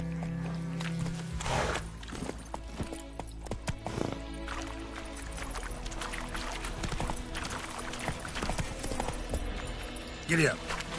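A horse in The Witcher 3 video game gallops in quick, rhythmic hoofbeats under game ambience and background music, with a brief louder burst near the end and voices speaking over parts of it.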